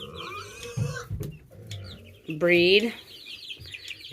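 Young barnyard mix chicks cluck and peep on a farm, with one louder, close rooster-like call standing out midway, while a person talks over the birds.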